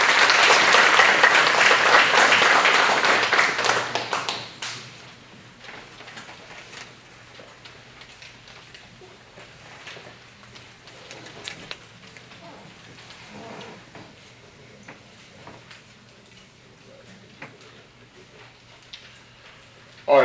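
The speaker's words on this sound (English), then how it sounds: "Let's give these gentlemen a round of applause." A school district event audience breaks into loud, dense applause that lasts about four seconds, then fades into quiet room ambience with scattered faint taps and shuffling.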